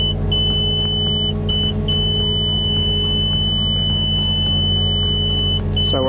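A Cat mini excavator digging a trench keeps up a loud, steady engine rumble, with a high electronic beep repeating in short bursts over it throughout.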